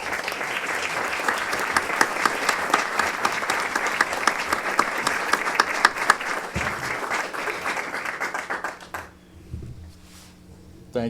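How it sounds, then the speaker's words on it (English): Sustained applause from an audience at a portrait unveiling, many hands clapping loudly and evenly for about nine seconds before fading out into room quiet. "let me join in recognizing and applauding Professor John Kaiser, a true friend"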